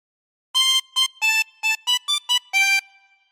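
A harmonica plays a phrase of Pop Goes the Weasel in eight separate blown and drawn notes with clear harmonics, some short and some held, close and alone, with the last note fading out.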